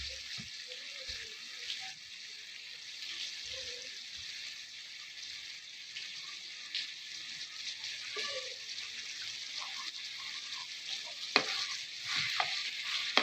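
An onion, tomato and garlic masala for bhindi cooks in a pan with a faint steady sizzle, punctuated by occasional soft spoon stirs and scrapes, louder near the end.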